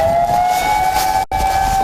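A tsunami warning siren wails at a steady pitch, loud and sustained, with a brief dropout before the tone resumes unchanged.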